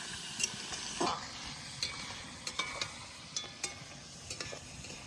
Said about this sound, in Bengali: এরকম করে টান জাল দিতে হবে, আর মাংস ভালো করে নাড়াচাড়া দিয়ে ভেজে নিতে হবে।